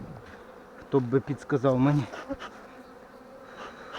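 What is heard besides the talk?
honeybees buzzing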